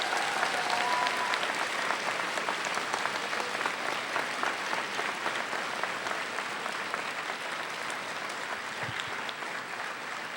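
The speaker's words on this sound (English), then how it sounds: "And let's give them a round of applause." Commencement audience applause for faculty at a college graduation ceremony, a sustained dense clapping from a large crowd filling a hall, even and steady for about ten seconds, slightly distant and without talk.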